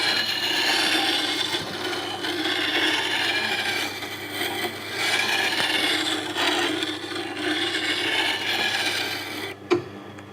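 A dressing stone rubs along a Tormek sharpening stone in steady, repeated grinding strokes with a gritty, scraping texture at moderate volume, ending in a sharp click.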